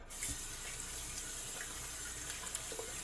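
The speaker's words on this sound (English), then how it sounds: "Rinse my hands off a while." Hands are rinsed under a running bathroom tap during a shave routine, giving a steady close hiss of flowing water with a few small splashes that lasts throughout and has no voices.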